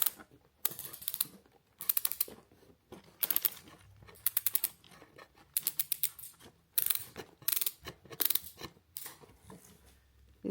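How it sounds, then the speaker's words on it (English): A Peloton Bike+ adjuster knob is turned to tighten it, giving repeated close ratcheting clicks in short bursts with brief pauses between turns. "You turn it in like that to tighten them."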